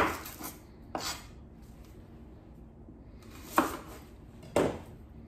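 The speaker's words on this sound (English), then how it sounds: "start chopping up an onion" A knife chops through an onion on a board, a few separate sharp cuts spaced irregularly in a quiet room.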